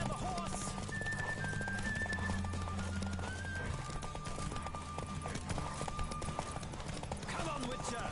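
Galloping horse hooves during a horse race in The Witcher 2 video game, a rapid clip-clop rhythm under steady game music and background voices, with a whinny.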